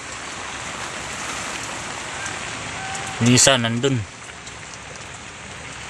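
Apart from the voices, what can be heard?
heavy rain falling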